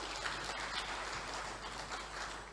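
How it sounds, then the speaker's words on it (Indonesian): Audience at a formal government closing ceremony in East Java giving a round of applause, a faint, steady wash of clapping over a low electrical hum. "Kita berikan tepuk tangan Bapak Ibu."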